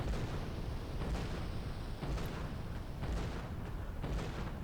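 Cannon in the GUN video game firing repeatedly, a run of loud booming blasts at a steady rhythm, with no talk.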